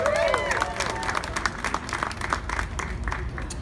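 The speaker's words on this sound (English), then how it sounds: "Please give one more round of applause for the amazing Kurt Krikorian" A hotel casino audience at a St Patrick's Day event gives Kurt Krikorian a round of applause, a burst of clapping and crowd noise that begins under a speaking voice and then fades into scattered claps.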